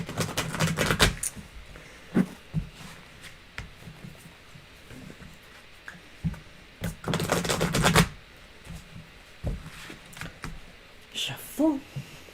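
Tarot cards riffle and slap together in quick bursts of shuffling, with scattered clicks and quiet gaps between, close up and fairly faint.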